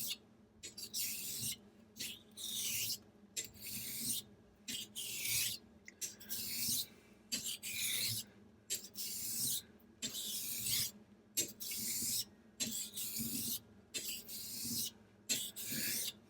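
A straight razor is stroked back and forth on a Morihei 1000-grit whetstone to set its bevel, giving steady rhythmic rasping strokes with short pauses between them, close up and with no speech.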